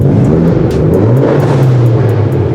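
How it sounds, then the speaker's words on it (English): A loud Mitsubishi Evo engine drones nearby, revving up mid-clip with a rising throaty roar, then holding steady. "Evo sounds so good"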